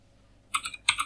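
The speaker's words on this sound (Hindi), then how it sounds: "यहाँ पे टाइप कर लेते हैं एज" Several quick keystrokes on a computer keyboard while entering a short word into an MS Excel cell, two close clusters of crisp clicks after a brief quiet pause.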